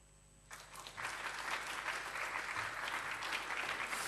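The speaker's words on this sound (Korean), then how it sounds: "오늘 우리 목사님 모실 때 큰 박수로 맞이하겠습니다" A church congregation at a Korean Wednesday worship service breaks into loud, sustained applause to welcome a visiting pastor. Clapping starts abruptly after a quiet half second and keeps building into a full, even roar of hands.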